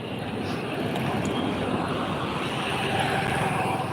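A car passes on a roadside where a child waits with a bicycle, its steady broadband road and engine noise filling the whole stretch at a fairly close, even level with no talk.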